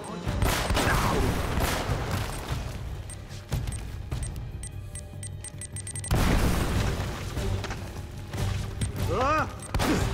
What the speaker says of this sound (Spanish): Vamos a lanzar una granada hacia lo alto,